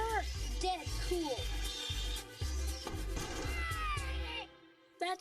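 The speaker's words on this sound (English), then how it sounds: "scrape the piece of resin along the thread. It sounds like the worst cat fight ever heard." A string scraped with a piece of rosin, set up as a homemade rosin violin, gives harsh screeching, yowling tones like a cat fight. The cries bend up and down over a steady low pulsing thump, then cut off just before the end.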